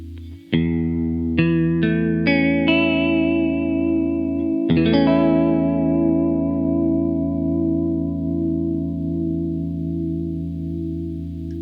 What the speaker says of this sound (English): if you take out that original signal, what you're left with is a version of it that's being adjusted up and down in pitch.